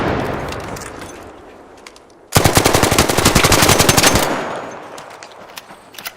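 The Harvester weapon fires a loud, close burst of rapid automatic shots in a video game, lasting about two seconds between quieter stretches of game ambience.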